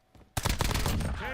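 Rapid automatic gunfire in a video game erupts suddenly after a brief quiet moment, a loud, dense burst of shots that runs on without a break.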